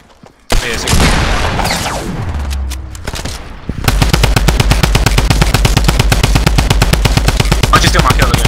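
P90 submachine gun fire in Fortnite Battle Royale: a loud burst and a rising whine give way to a long, rapid, steady stream of close shots.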